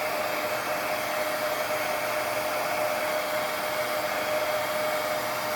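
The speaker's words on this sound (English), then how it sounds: "Keep my heat tool moving." A handheld heat tool blows hot air onto embossing powder on cardstock, giving a loud, steady whoosh like a hair dryer that holds constant for several seconds without any speech.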